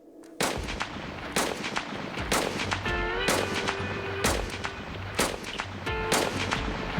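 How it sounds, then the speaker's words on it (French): A gun is fired into the air eight times in an outdoor ballistics test, the loud sharp reports spaced about a second apart, each followed by ringing echo and a faint whistling tone in the background. "On va tirer 8 balles."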